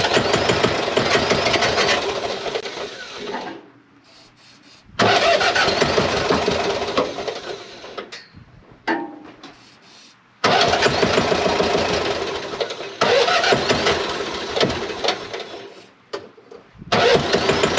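An engine on a test setup cranks and tries to fire in several loud, sustained bursts separated by short silences, with no talk over it.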